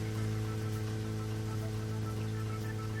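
Steady rain falls in the video game Deadly Premonition, an even hiss that stays constant and alone over a low, continuous hum from the game's soundscape.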